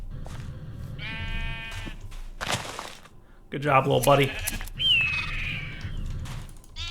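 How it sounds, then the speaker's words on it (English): Minecraft sheep bleating while being sheared, several short synthetic bleats and chirpy game sounds spread across the clip, with someone talking over them. "So now we've got a rat shearing our sheep for us."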